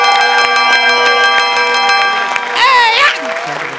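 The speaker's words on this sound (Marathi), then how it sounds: "अरे बाबा, घंटी वाजवण्यात तरी व्हेरिएशन दे रे" A ringing bell on the Maharashtrachi HasyaJatra comedy show stage, with sustained bright metallic tones and repeated strikes over crowd noise, then a voice rising near the end.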